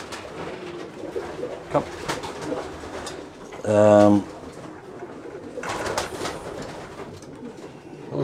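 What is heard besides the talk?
racing pigeons cooing in a loft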